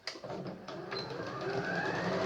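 Sewing machine stitching around a fabric pencil case, a continuous soft mechanical whirring hum with a few faint clicks as it starts, close and steady.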